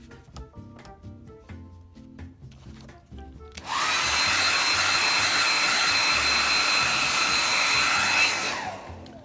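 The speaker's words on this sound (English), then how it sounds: "I only use the hairdryer just to move along in the video" A hair dryer blows over clear coat on model decals, switching on abruptly after a few seconds of quiet tapping and running as a loud, steady whoosh before cutting off near the end; no one speaks.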